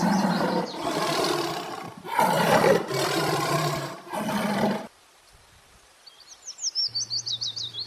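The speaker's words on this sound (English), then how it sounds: "T for tiger." A tiger roars in a long, loud growling burst broken by brief pauses over about five seconds, followed by a faint, sharper animal call and a low repeated pulsing near the end.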